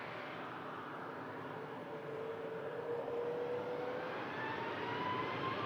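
A Ryanair jet departing for Malta roars steadily at a distance, a broad continuous engine rumble with a faint rising whine drifting through it, heard alone without voices.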